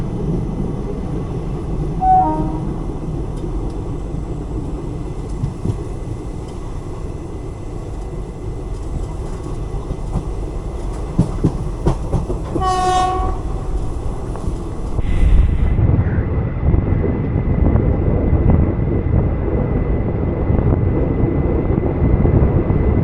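A Mangalore–Mumbai CSMT superfast express rumbles steadily on the Konkan Railway and enters tunnel number 1, its roar shifting to a boomier, enclosed tone partway through, with a brief horn-like tone early on.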